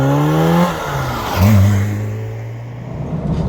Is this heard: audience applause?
no